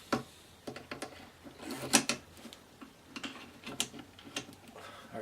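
An AK47 being reassembled with its bolt carrier and recoil spring: close, quiet metallic clicks and taps at an irregular pace, with a few sharper knocks between them.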